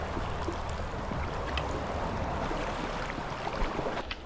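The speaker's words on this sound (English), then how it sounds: "Then this noisy water should be providing me a bit of cover at least." Shallow stream water rushes in a steady, broadband hiss, close and fairly loud, with no voices over it.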